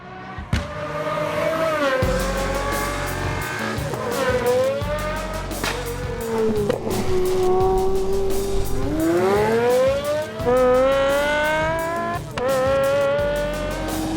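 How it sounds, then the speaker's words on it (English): A Pagani Zonda Cinque Roadster engine howls loudly and continuously, revving up and down through rising and falling sweeps with brief gaps between gearchanges, close and dominant throughout. "This one's called the Zonda Cinque Roadster. And if looking at it doesn't yet stir your soul, then just wait until you hear it."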